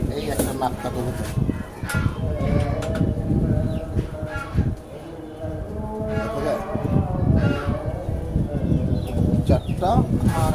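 Several pigeons bought from a market coo repeatedly nearby, low throaty calls mixed with faint chirps, while a person talks over them.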